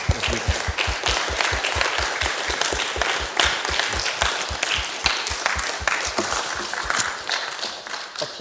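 A round of audience applause after a Q&A talk: many hands clapping in a brisk, even rhythm, close and steady for the whole stretch, with no voices on top.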